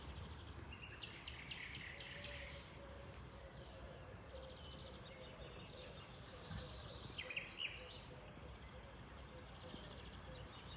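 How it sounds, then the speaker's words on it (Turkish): Bright, varied nightingale song trills and chirps repeat in bursts over a steady outdoor background in the early morning, with a voice talking faintly underneath. "Sabahın erken saatlerinde bülbül sesleri bizi mest ediyor."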